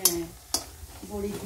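Homemade lentil dumplings (bori) sizzling in hot oil, a soft frying hiss with two sharp spatula scrapes or clinks near the start, heard close and faint.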